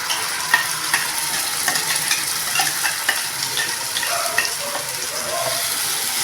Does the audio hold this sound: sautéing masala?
yes